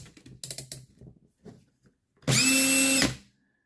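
A power drill spinning an RC car turnbuckle whirs loudly at steady speed for under a second, preceded by a few light clicks and handling noises.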